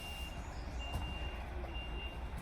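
A lorry's reversing alarm beeps in a steady tone somewhere nearby at a motorhome aire, rising above a low engine rumble and faint background noise.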